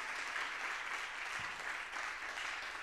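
Church congregation clapping together in strong, dense applause during a sermon, a steady wash of many hands filling a large room, continuous and fairly distant.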